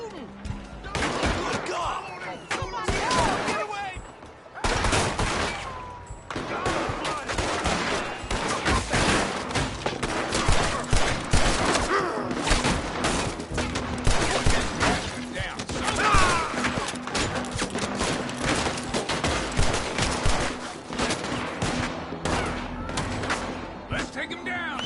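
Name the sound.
gunfire in the video game Red Dead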